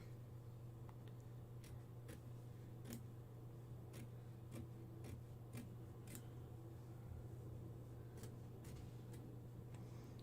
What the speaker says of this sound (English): whichever scissors you have that allow you to get that nice close trim